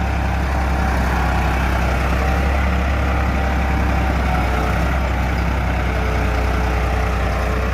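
A Farmtrac 60 55 hp tractor pulls a seven-tine mini plough through a field, its engine a loud, constant, heavy drone close by, with no talk.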